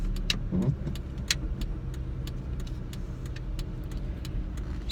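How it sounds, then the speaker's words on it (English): A single car drives past on a road outdoors, its engine hum rising and fading steadily across the clip amid light traffic and ambient street noise, with no talking. "Let me go ahead and pull out here as soon as this car gets past."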